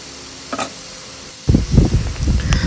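Chicken adobo fries in a pan: a faint sizzle with a single tap, then brisk, repeated stirring scrapes and clatter of a spoon through the pieces, loud and close.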